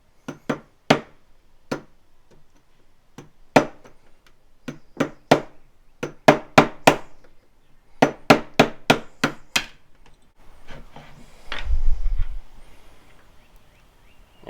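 Sharp hammer strikes drive a Glock pistol rear sight sideways out of its steel slide dovetail, about twenty crisp close taps in uneven bursts, some quick runs of three or four, with a dull shuffle near the end.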